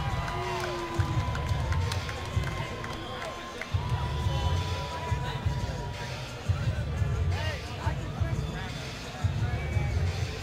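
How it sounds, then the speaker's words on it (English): A crowd at a combat fight event keeps up a steady cheering and hubbub in rolling surges, heard under an announcer speaking over a PA. "and the crowd is showing them love."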